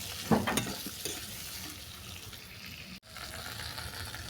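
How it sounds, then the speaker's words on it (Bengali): Spices and ginger are stirred in a hot pan for a spiced vegetable dish, with a few sharp scrapes near the start over a soft continuous sizzle and a brief dropout near the end. "এই সমস্ত উপকরণ আদার সঙ্গে ভালো করে মিশিয়ে নিলাম"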